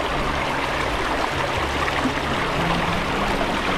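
Water fed down from the mountain pours steadily from a hose at a campsite in Daraitan, Tanay, Rizal. The rushing is loud, constant and close, with no pauses and no talking.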